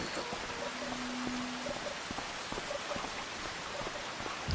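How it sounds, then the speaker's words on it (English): Steady rain hisses evenly in the Farming Simulator 25 game on a Louisiana farm in early July, a constant wash of sound with faint scattered ticks and no voices. "the rain should stop by noon"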